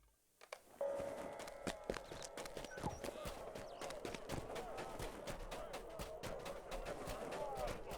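Rhythmic hoof clip-clops of a trotting horse in the video game Lord of the Rings Online repeat steadily at a moderate pace, with a voice speaking intermittently over them.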